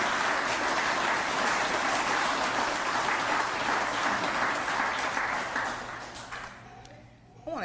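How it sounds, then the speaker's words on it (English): Sustained audience applause for promoted police officers at a department promotion ceremony, full and steady before tapering off near the end, with some voices audible. "Can we give another round of applause for all of our promotees?"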